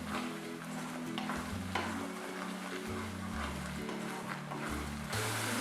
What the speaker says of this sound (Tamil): இது நல்லா வதக்கிட்டே இருக்கணும். ஏன்னா பச்சை வாடை ஃபுல்லாக போயிடணும்.